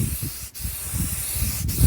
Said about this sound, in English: Simply, all we want is a good old black aerosol, and just go over the whole thing